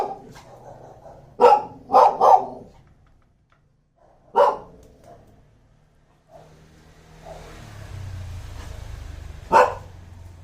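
A dog barks in short bursts, a close cluster of three barks followed by two more spaced out, with a low vehicle rumble rising in the background near the end.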